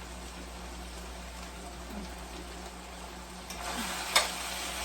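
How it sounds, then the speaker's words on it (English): Lean, nearly fat-free meat sizzles softly in a pan, a faint steady hiss and crackle over a low background hum, with a few brief clinks and a sharper pop near the end. "Hear that sizzling?"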